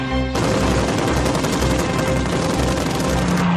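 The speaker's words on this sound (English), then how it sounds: "The fighter had a good armament of 2 rapid-firing Shkas machine guns and a 20mm" A Yak fighter fires its two rapid-firing Shkas machine guns and 20mm ShVAK cannon in one loud, unbroken burst of dense, rattling gunfire that lasts the whole stretch.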